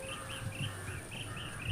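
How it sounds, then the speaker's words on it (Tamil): Birds circle over fields near the sea in Alappuzha, giving short repeated chirping calls at a moderate distance over a low steady background hum, with no one speaking. "அந்த பறவைகள்லாம் பறந்து வட்டமிட்டுக்கு இருக்கு நண்பர்களே."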